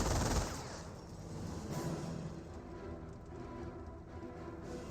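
Rifle grenades and gunfire on a Company of Heroes battlefield, a loud opening blast followed by a continuous rumble of distant shooting and explosions at moderate level.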